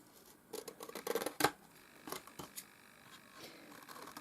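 Scissors snip through a cat food cardboard box in a quiet room, a handful of short, crisp cuts in quick bursts with pauses between, close and fairly soft, with no talking.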